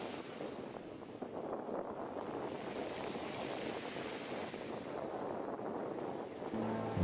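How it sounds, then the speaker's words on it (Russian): Winter storm at sea beside a pier, with a constant roar of wind buffeting the microphone and waves surging underneath, fairly faint and steady throughout without any voices. "Да, ну, как мы видим, небольшой шторм."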